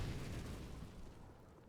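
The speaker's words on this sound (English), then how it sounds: "Even Choppy can hear the nades are going out." A grenade blast in a Counter-Strike match on the Nuke map, one low booming explosion that is loud at first and then rumbles away over under two seconds, with no voices.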